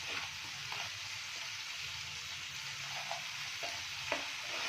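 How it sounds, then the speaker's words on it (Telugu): Ginger garlic paste fries in a hot pan with a steady quiet sizzle and crackle, and a few soft stirring scrapes break through now and then. "అయితే నేను ఇప్పుడు జింజర్ గార్లిక్ పేస్ట్, అల్లం వెల్లిగడ్డ పేస్ట్ వేసేస్తున్నాను."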